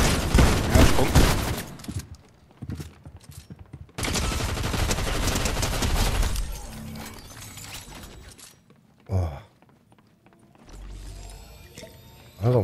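Bursts of gunfire from the Fortnite video game, loud rapid volleys at the start and again around four to eight seconds, then scattered single shots and quieter game noise near the end.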